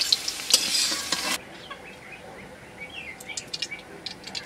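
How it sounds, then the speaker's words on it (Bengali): Potatoes fry and get stirred in hot oil, a bright sizzle for about a second and a half, then a quieter stretch with faint scattered clinks and chirps. "আমি কিছুক্ষণ যাবত নেড়ে চেড়ে আলুগুলো বাদামি বর্ণের বা লালচে বর্ণের করে ভেজে নিয়েছি"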